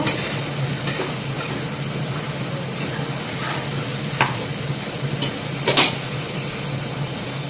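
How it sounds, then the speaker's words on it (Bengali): Fish frying in a pan at home, shortly before the gas is turned off, giving a steady broadband sizzle with a few brief clinks or stirring knocks near the end, close by and with no talking. "এবার মাছটা যখন এরকম পর্যায়ে ভাজা হয়ে গেছে"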